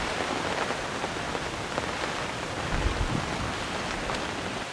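Heavy rain pours steadily at an outdoor fishing spot on a stormy day, a dense, even hiss that stays constant throughout, with occasional low rumbles.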